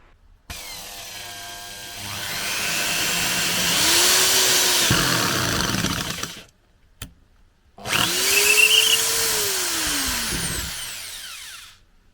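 A Vitals cordless drill driver in screw mode whirs in two bursts, motor pitch rising and falling as it runs, with a short pause between.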